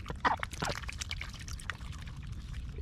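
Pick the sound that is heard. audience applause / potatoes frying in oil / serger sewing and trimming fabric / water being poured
water being poured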